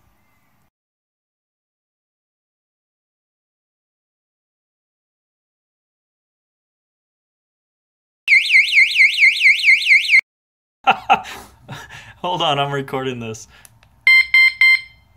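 An Antusi Cicada A6 bike alarm, locked, gives a loud warbling siren for about two seconds. A person then talks, and a short burst of sharp electronic beeps follows.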